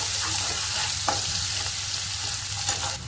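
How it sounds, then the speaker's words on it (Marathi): Finely chopped onion and green chillies frying in a pan for spiced leftover rice make a soft continuous sizzle with occasional stirring scrapes and a faint background hum, no voices. "मिरच्या बारीक टाकलेला आणि एक बारीक आपल्याला कांदा तर थोडंसं आपण परतून घेणार आहोत"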